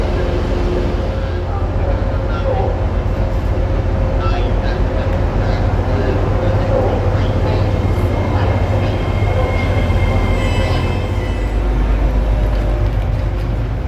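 A train rumbles steadily along the tracks, a constant low roar with faint squeals and clatter, close and loud for the whole stretch.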